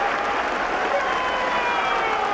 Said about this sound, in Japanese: エディオンアリーナ、この大きな歓声です